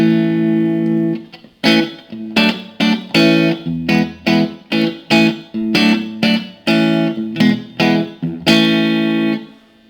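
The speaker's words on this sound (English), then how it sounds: "I guess I'll do the clean sound on the 15R." A clean electric guitar plays through a Fender Frontman 15R practice amp with a 10-inch speaker and moderate reverb, ringing chords followed by a loud run of rhythmic strums, with no talking.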